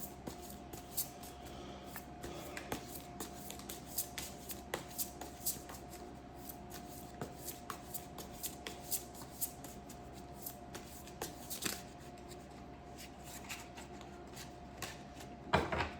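Tarot cards being shuffled by hand, a soft steady riffling and shuffling that runs quietly throughout, with small taps and rustles scattered over a constant low hum.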